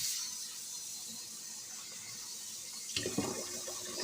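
Tap water runs from a kitchen faucet over mushrooms being rinsed, a steady close hiss that turns splashier and more broken near the end as the mushrooms are moved under the stream.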